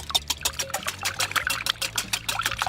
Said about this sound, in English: start off with 3 eggs into a bowl. Okay, give that a little whisk.